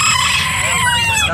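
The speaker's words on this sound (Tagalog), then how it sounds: "Tapos may mga pangkatay din ng manok." At an animal market, chickens cluck and a rooster crows loudly and close, the calls layered over a busy crowded background with some voices.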